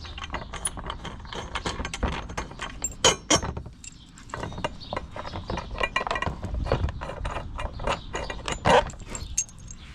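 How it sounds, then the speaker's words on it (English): Nuts being removed from the screws of a lower door panel for a 2022 CanAm Maverick X3 XRS MAX Turbo RR, heard as close, irregular ratcheting clicks and small metallic rattles that continue throughout. "you will go ahead and remove the nuts from the screws"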